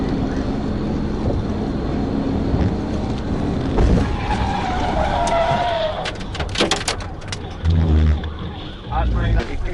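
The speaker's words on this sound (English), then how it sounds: "The pit maneuver caused the suspect's vehicle to spin out" Fleeing truck spinning out after a police PIT maneuver at over 70 mph, heard as a rising engine roar and tire skid squeal, followed by thumps and rattles, with a voice talking over it.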